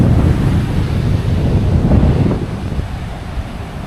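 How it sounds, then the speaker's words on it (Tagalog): Strong wind buffets the microphone at Sabang Beach in Baler, a loud, continuous roaring rush blended with surf, steady and close, easing slightly toward the end with no voices. "Lakas ng hangin."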